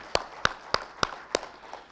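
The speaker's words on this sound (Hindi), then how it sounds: "जोरदार ताली" A seminar hall audience at a hotel in Delhi clapping together in a steady rhythm, five or six crisp, evenly spaced claps that fade slightly toward the end.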